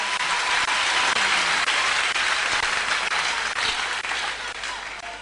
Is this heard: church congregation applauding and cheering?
yes